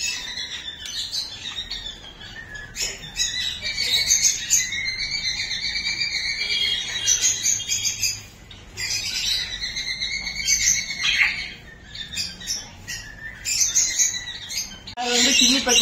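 Pigeons and other birds on a bird farm, a dense chorus of chirps, tweets and squawks, close and constant, with a brief lull midway.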